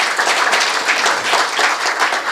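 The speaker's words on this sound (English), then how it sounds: "Let's clap for Joy again." An audience at an investment forum in Houston claps for a speaker in a brief burst of dense, steady applause, close and fairly loud, with no voices over it.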